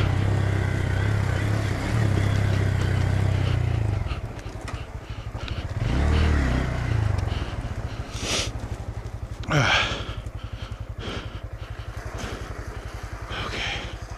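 A 2022 Honda Grom motorcycle rides a single-track dirt trail, its small engine droning steadily up close, then dropping off and picking back up in uneven bursts with some rattling.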